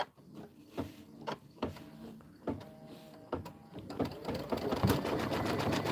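An embroidery machine stitching the border of a bench pillow. It runs with a steady mechanical whir and a rhythmic needle thump that gets denser and louder toward the end, close up and with no talking.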